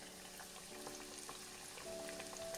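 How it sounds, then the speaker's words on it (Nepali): Whole wheat bread samosas, not dipped in egg, fry in hot oil with a steady faint crackling hiss and scattered small pops throughout, quiet and unbroken, with no one speaking. "दो तीन समोसे हम आपको बग़ैर अंडे के फ्राई करके दिखाते हैं।"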